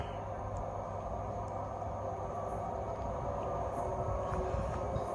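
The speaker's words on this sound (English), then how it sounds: "Right, our train is approaching." A train pulls into a station platform in Manchester, heard as a steady low rumble and hum of rolling stock with faint metallic squeals, moderately distant and continuous, without voices.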